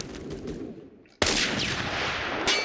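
A sniper rifle in the video game Phantom Forces fires one loud, sharp shot that cuts in abruptly after a quieter stretch, followed by a lingering burst of noisy game action.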